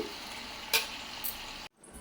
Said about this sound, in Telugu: చికెన్ అంతా కూడా ఇలా వేసేసుకోవాలి ఇలా వేసుకుని కొంచెం వేగనివ్వాలన్నమాట అంటే కలుపుకుంటూ ఉండాలి మనం